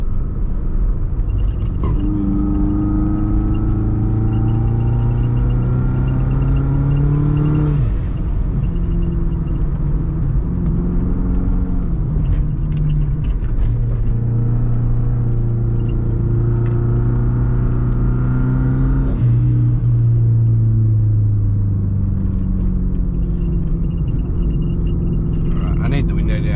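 A loud twin-turbo Subaru engine with an open exhaust rumbles and revs repeatedly on a mountain road, rising and falling in pitch through a throaty exhaust, with wind buffeting in the background.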